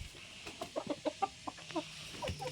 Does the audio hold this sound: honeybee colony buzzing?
no